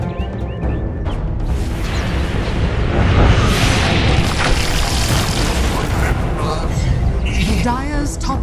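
A Dota 2 tower takes fire and collapses in a sustained, dense booming rumble of impacts and crumbling, loud and continuous for several seconds, with game announcer speech and effects layered on top.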